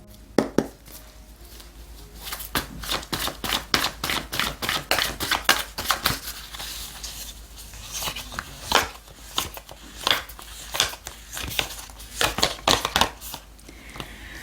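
Tarot cards being shuffled and dealt onto a surface: a steady run of crisp, close slaps, flicks and papery riffles in uneven bursts for about fourteen seconds, with no voice.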